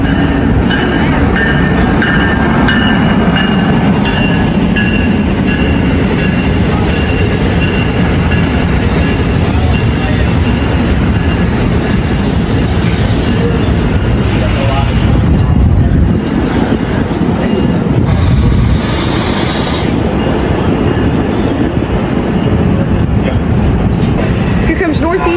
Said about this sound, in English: Here comes Northeast Regional 134.